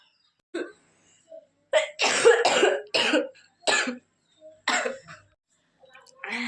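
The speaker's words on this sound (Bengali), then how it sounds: "এরকম কাশি হলে চোখ দিয়ে জল বেড়ে যায় আমার, দেখো ভীষণ কাশি, একবার যদি শুরু হয় আর থামতে চাইছে না।" A woman's coughing fit at home, a run of harsh, forceful bursts in quick succession that come and go across several seconds, close and fairly loud with short pauses between clusters.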